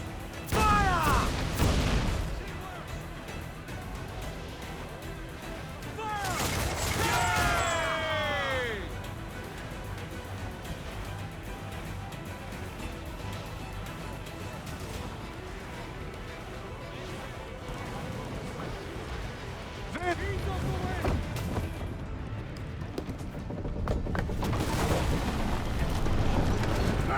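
Ship cannons boom in Assassin's Creed IV Black Flag, heavy blasts landing in bursts near the start, midway and toward the end over a rumbling naval battle, with shouting voices in between.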